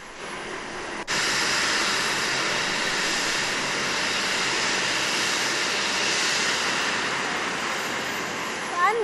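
A helicopter landing at the Arashiroor helipad in Udupi runs as a loud, steady roar of rotor and engine, jumping to full strength after about a second and holding near and continuous throughout.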